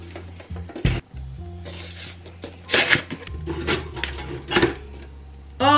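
Someone rummages through a kitchen drawer and dishes for the last clean piece of cutlery, with clattering clinks of metal and crockery in bursts and a few sharp knocks, close and fairly loud, no talking.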